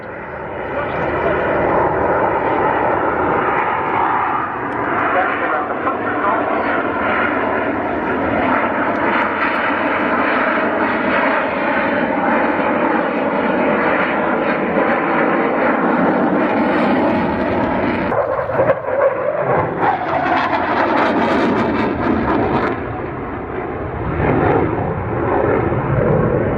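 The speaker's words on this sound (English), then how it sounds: "the digital fly-by-wire controls really coming into play as we see the aircraft at the slow speed pass in from the left" Fly-by-wire aircraft making a slow speed pass at an air show at RAF Cosford, a loud continuous engine roar that stays steady throughout, with a brief shift as it passes, while a commentator talks over it.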